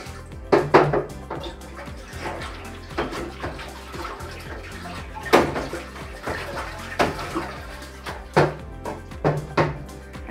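Liquid mineral blend is poured straight into the water of a Tower Garden reservoir, with splashing, intermittent knocks and plastic clunks from a measuring cup, close and moderately quiet.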